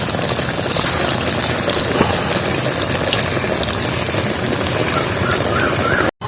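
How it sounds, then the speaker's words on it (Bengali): Potato-stuffed semolina snacks frying in hot oil give off a loud, dense, continuous bubbling sizzle that stays steady throughout and cuts off abruptly at the end. "আর এগুলোও দিয়ে দিচ্ছি তেলের মধ্যে।"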